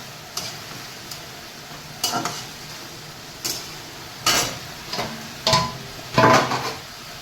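River banshpata fish curry being stirred in a pan, heard as a few separate scraping, clinking strokes spaced out over a faint background hiss, close and without talk.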